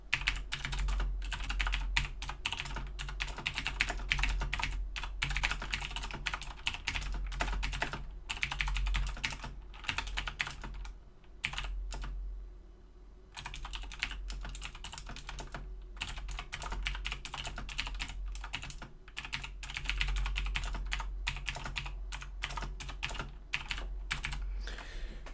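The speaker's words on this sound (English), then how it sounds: "I'm going to do a slight type test just so you can see what it sounds like" Steady rapid typing on a Corsair K95 or 2014 Razer BlackWidow mechanical computer keyboard, a dense run of close clicky keystrokes with a brief pause midway, no talking.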